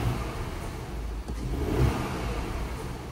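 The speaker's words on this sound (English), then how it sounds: "we'll give it a couple revs for you guys" A 2024 Porsche Cayenne with a 3-litre turbocharged V6 revs while parked, the engine swelling and easing in a couple of moderate blips heard from close by.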